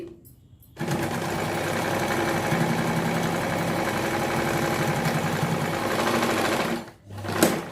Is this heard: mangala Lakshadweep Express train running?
no